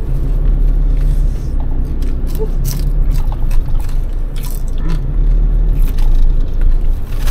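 Heavy road traffic in Manila, a loud, steady low rumble of engines close by, with scattered clicks, scrapes and brief rattles over the continuous drone.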